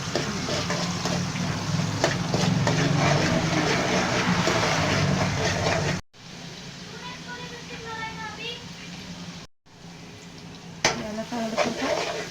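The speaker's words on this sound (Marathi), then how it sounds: "कांद्याला लाल होतपर्यंत आपण चांगल्या प्रकारे परतून घेऊ." Onions frying in a pan for a Marathi stuffed tondli (ivy gourd) curry give a steady, close sizzle that later softens amid stirring, with talk over the cooking throughout.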